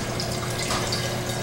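Cold brew coffee concentrate, steeped for 15 hours, is poured into smaller containers. The pour makes a brief, soft trickle and splash of liquid, with no voices.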